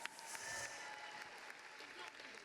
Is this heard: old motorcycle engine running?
no